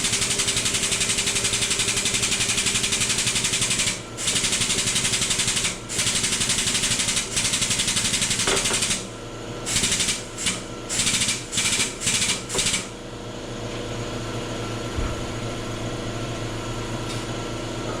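A hydraulic press works on a drive shaft yoke in a shop, a loud steady mechanical drone with rhythmic pulsing, cut by several brief pauses and choppy bursts partway through, then settling into a lower hum.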